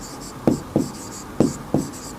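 Chalk or marker writes on a classroom board in a coaching lesson, four crisp tapping strokes spaced a little apart, close and clear, with a faint squeaky hiss between them.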